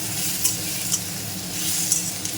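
Onion, green chilli and ground cumin, coriander, chilli and turmeric sautéing in a pan, a steady close sizzle with a few soft scraping stirs spaced about half a second apart.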